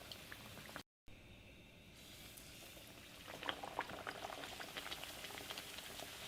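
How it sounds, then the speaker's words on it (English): A sopapilla fries in hot oil that sizzles and bubbles steadily, with crackling pops growing livelier partway through, close and fairly quiet. "Now when you're frying multiple sopapillas"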